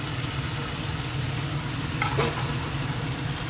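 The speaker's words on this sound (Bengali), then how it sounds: "এবার এটা পুরো আলুটা আর মাংসটা একসঙ্গেই কষিয়ে নেব।" Potatoes and mutton sauté together in a pan with garlic, giving a steady low sizzle and stirring scrape close up, with a brief louder clatter near the middle and no talking.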